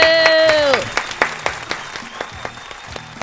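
A whoop rings out, then scattered, fairly light hand claps from a small audience follow in an uneven rhythm as a comedian is introduced on stage.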